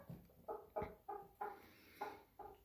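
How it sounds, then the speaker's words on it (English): A rooster gives a quiet series of about eight soft, evenly spaced clucks, heard alone and faint. "Happy little goofy clucks from our Stormy there"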